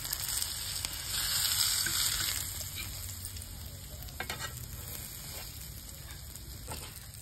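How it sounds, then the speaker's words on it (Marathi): Stuffed firka fish frying in very hot oil, a steady close crackling sizzle that swells briefly then settles into a constant hiss with occasional pops. "आपला मासा आहे तो दोन्ही साईडने मस्त फ्राय झालाय"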